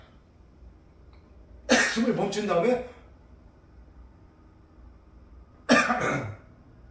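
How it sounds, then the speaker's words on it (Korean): Two separate bursts of coughing a few seconds apart, close and fairly loud, brought on by pressing an acupressure point on the chest, with short spoken Korean words in between against a quiet background. "저도 지금 누르니까 가운데 누르니까 기침이 좀 나네요"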